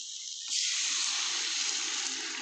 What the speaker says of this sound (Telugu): దీంట్లో ఇప్పుడు మనకు తగిన నీళ్ళు పోసుకుందాం.